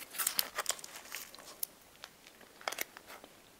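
A paper tray holding Japanese fruit mochi crinkles close up in short, irregular bursts of crackling and rustling, louder at the start and again near the end, with no talking.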